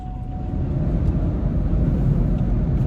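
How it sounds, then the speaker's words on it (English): A 2021 Ford F-150 truck launches in two-wheel drive, a dense low engine roar and rumble building steadily, loud and close, with no voices over it. "we're gonna see if launching in the 2-wheel allows me to get a little bit more wheel spin and go"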